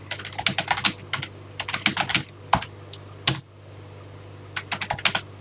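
A program is typed in on a TI home computer keyboard, sharp close keystrokes coming in quick clusters with brief gaps and a few heavier single presses, over a low electrical hum.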